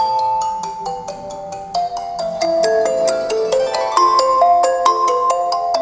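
A ringtone melody plays loudly from the rear bottom speaker of a Realme C25Y smartphone during a volume test, a bright sequence of repeating electronic tones at steady level with no talking.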